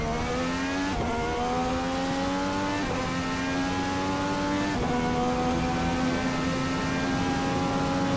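A loud race car engine in a racing sim game revs and whines steadily upward through the gears, with three sharp shift drops before pitch climbs again, continuous and alone.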